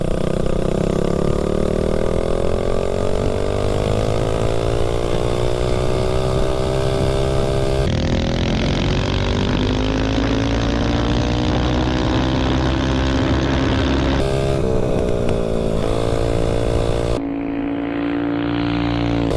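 A Tillotson 225 engine on a small-frame TACO 22 mini bike revs hard and loud throughout, its pitch climbing through the gears as it accelerates near the microphone.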